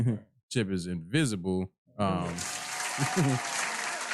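Audience applause at a live comedy-style show breaks out after someone talks briefly, then carries on as a dense, steady clatter of clapping while he keeps talking over it.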